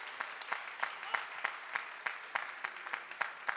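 An audience at a Hindi poetry gathering (kavi sammelan) in the Arwachin Bharti Bhawan School claps in a continuous spatter of distinct hand claps, moderately faint and heard from within the hall.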